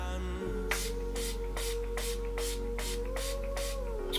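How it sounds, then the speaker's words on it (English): A handheld facial mist bottle sprays onto a face, giving a run of seven short, evenly spaced hissing bursts close to the mic over a steady low background hum. "I just kind of spray it however."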